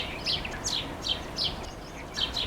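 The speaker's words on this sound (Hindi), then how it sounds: "घोंसले में चूजे चिल्ला चिल्ला कर माता पिता से भोजन मांगते हैं।" Lark chicks in a nest give repeated high, thin begging calls to their parents for food, several quick chirping bursts in close succession over a steady background hiss.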